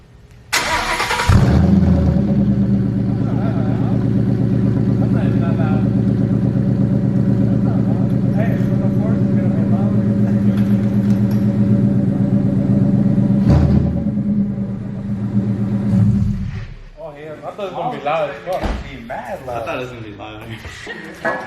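Car engine with open headers cranking and firing up, settling into a loud, raspy, rumbling idle for about fifteen seconds before shutting off, after which a person speaks.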